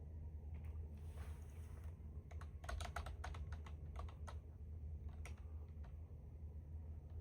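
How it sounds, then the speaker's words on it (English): Typing on a computer keyboard, with bursts of clustered key clicks over a steady low hum of a desktop setup, close and fairly quiet. "I'll type a little."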